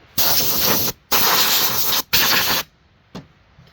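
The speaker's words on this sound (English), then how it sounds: "Make sure your oil port's clean. Don't blow like right into it, because you might jam gunk down the hole" Compressed air blasts past the oil port of a chainsaw to clear debris: three loud, steady hissing bursts of almost a second each, then one short faint puff, with no talking.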